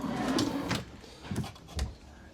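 An extra storage drawer for random tools in a workshop slides open and shut, a soft rolling rumble followed by a couple of light knocks and clicks, quiet and close without speech.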